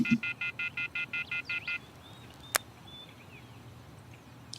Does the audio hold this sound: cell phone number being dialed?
yes